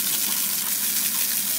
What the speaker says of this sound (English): Now I put water.